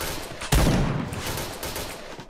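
Rapid gunfire in the online shooter Point Blank, with a loud blast and then a dense, sustained rattle of shots and explosions close up.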